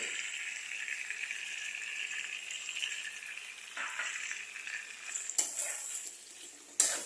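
Mutton fries in a pan with a mixed chili and turmeric paste, a steady bright sizzle broken by scraping stirs and occasional clinks of the spoon against the pot.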